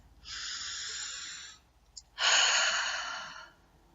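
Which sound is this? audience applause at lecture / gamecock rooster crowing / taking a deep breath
taking a deep breath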